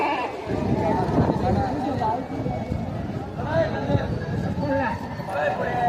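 Goats of Kathiyawadi and Osmanabadi breeds bleat repeatedly at a busy livestock market in Chalisgaon, with people talking constantly over the animal calls.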